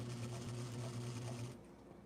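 A sewing machine stitches along a zipper on a corset with a steady, fairly close, humming run of stitches that stops abruptly near the end.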